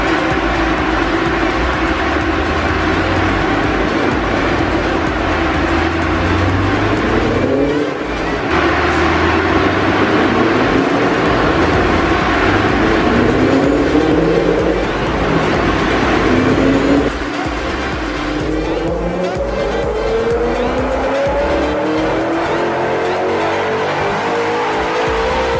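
A supercar engine on a dynamometer with cooling fans running rises slowly through a loud, sustained revving pull, its pitch climbing steadily over about twenty-five seconds, then drops and builds again, with no voices.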